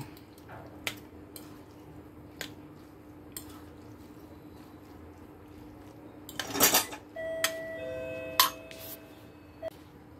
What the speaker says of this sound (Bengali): এখন নিয়েছি দুটো কাঁটা, এই দিয়ে এভাবে মিক্স করে নেব।